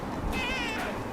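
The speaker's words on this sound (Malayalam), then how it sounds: "പൂച്ചാണതാ. അതെങ്ങനെയാ ഈ പൂച്ച?" A cat gives a single short meow, rising and falling, over a busy, noisy background in an indoor setting.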